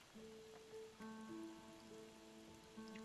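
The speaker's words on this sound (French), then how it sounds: "Il pleut." Steady patter of rain falls in the video game Spiritfarer, a soft continuous wash with scattered drops beneath sustained tonal game music, no voices present.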